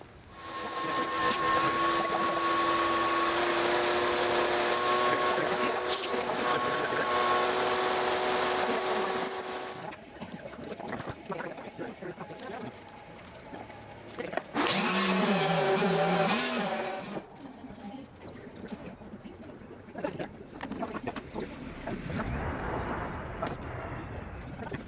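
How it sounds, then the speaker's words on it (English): Sandpaper or a power sander works the gel coat off a carbon fiber propeller hub, giving a loud continuous grinding whine for about ten seconds, then quieter intermittent scraping with another brief loud burst partway through. "we'll sand the gel coat off of there and then get it down smooth down to the carbon fiber"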